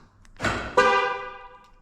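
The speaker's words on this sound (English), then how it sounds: "There we go. It honked." A 2007 Lincoln Town Car's horn honks twice in quick succession as it is locked and the alarm arms, the second blast louder and ringing out briefly before fading.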